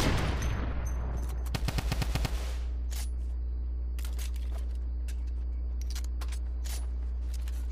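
Video game gunfire: a rapid burst of shots fired up close and loud, followed by scattered single shots and sharp cracks over a steady low background hum.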